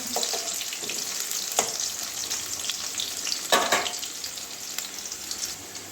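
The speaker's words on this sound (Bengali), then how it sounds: "আলু ভাজা হয়ে গেছে" Steady crackling sizzle of potatoes frying in hot oil, with a few sharper scraping bursts as they are moved around; no voices.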